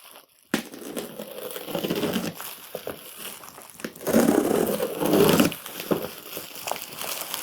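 Crinkling and rustling of packaging as a box holding a Kamado K24 stainless steel flexible cooking system is opened up close, in irregular bursts of crumpling with brief quieter gaps.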